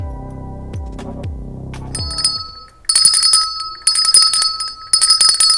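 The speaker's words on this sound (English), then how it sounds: "I've been ringing that bell 5 years now" A hand bell rung in a café during a Christmas-season live stream: several sharp metallic strikes with decaying tones, then bursts of rapid, bright jingling ringing, loud and close with no talking.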